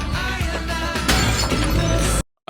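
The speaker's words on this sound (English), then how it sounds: "Broken glass." A loud burst of glass shattering and crashing debris in a television drama scene fills most of the moment, then cuts abruptly to near silence with a faint trailing sound.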